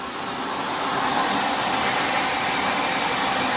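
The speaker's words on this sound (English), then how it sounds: "So you just got to unscrew this and then put the vacuum on." A vacuum cleaner draws air out of a vacuum storage bag, a steady close whooshing hiss that swells slightly at the start and then holds evenly.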